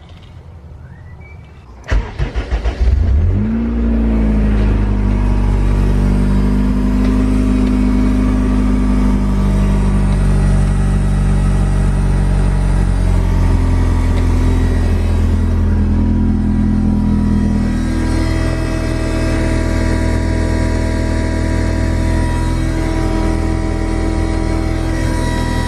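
A Honda CRX with all-wheel drive and a newly replaced fuel pump cranks and fires after a short quiet pause, then settles into a loud, steady idle with a deep rumble that keeps running alone.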